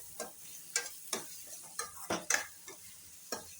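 Onions and tomatoes cooked down in a pan, stirred with a spoon in a steady run of scraping strokes about every half second over a soft background sizzle, close and fairly quiet.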